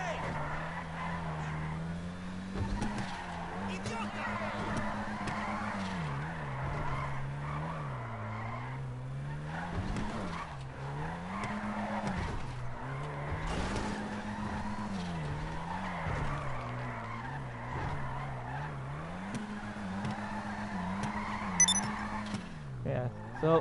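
A car drifts in GTA Online, its tyres screeching in long repeated skids over a steady engine drone while someone talks throughout.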